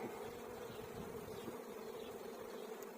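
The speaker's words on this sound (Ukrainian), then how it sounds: "Бджола літає." Faint, steady buzzing of bees in flight hums continuously at a low level, fairly distant and quiet.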